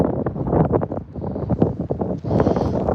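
Strong gusting wind during a lake effect snow squall at Oswego buffets the microphone in loud, rough, continuous blasts that rise and fall over a few seconds.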